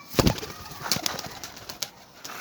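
A young grizzle pigeon coos close by in a loft, a few soft low calls with a louder burst near the start, then quieter intermittent sounds.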